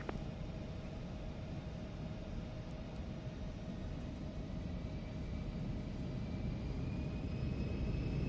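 Embraer E175 twin jet engines spool up to takeoff power in the X-Plane 12 flight simulator, a steady broad roar with a faint rising tonal whine held throughout.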